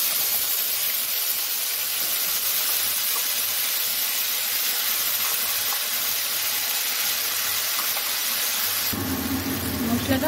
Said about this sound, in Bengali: মশলাটা ভালো করে সাঁতলাতে হবে